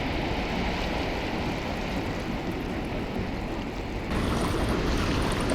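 Dense, continuous surf roar of ocean waves, broad and steady, shifting slightly in tone near the end, with no voices.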